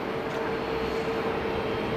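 A Shanghai Airlines airliner arriving from Shanghai Pudong at Haneda airport gives off a broad, steady engine roar with a faint whine on top, fairly loud and unbroken, with no voices.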